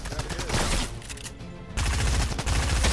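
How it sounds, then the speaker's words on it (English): Rapid machine gun fire rattles in Fortnite, loud sustained bursts that break off briefly, then resume in a heavier burst. "That guy with the machine gun."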